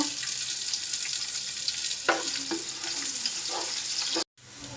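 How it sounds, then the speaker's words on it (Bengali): Panch phoron and onion frying in hot oil for khichuri, a steady close sizzle and crackle running throughout with a few soft stirring knocks, ending in a brief cutout. "তেল গরমও দিয়ে দিছি আসো এখানে পাঁচফোড়ন দিয়ে দিলাম এক চামচ পেঁয়াজ দিয়ে দেব"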